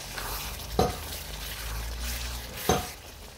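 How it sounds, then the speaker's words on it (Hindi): Fish handi simmers in a cooking pot with a low, steady sizzle, while a spoon scrapes through it twice in distinct strokes, alone and close. "मिक्स करें।"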